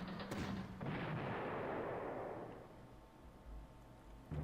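Artillery fires in the Panzer Corps war game: a sharp cannon blast followed by a second boom that rolls into a long, fading rumble, then a fresh crack at the very end, loud and without talk.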